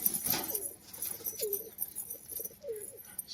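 A white Kagji tumbler pigeon, a black-eyed male, coos nearby in a series of soft, rolling calls repeated about three times over faint background noise.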